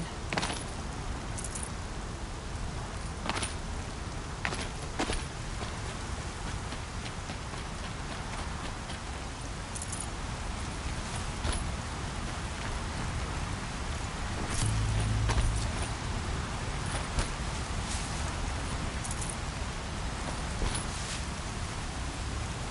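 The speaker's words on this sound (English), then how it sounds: "Here comes the rain." Rain in the video game Horizon Zero Dawn falls as a steady broadband hiss with scattered sharp drop ticks, continuing evenly for over twenty seconds with no talking.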